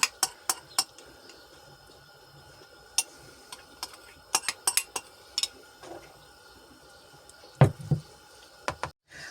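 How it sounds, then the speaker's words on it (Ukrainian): Dressed cabbage salad being tossed in a bowl gives sparse, irregular clinks and taps of utensils against dishware, fairly quiet and close, with no talk. "Так, і добре перемішуємо."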